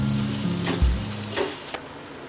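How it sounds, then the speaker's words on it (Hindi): Poha being stirred in a hot pan with coriander leaves and coconut powder, a soft steady sizzle with a few scraping spoon strokes, up close and without speech. "अभी मैंने धनिया पत्ता और कोकोनट पाउडर मैंने डाल दिया है और अब मैं इसको अच्छी तरह से मिक्स कर लूंगा"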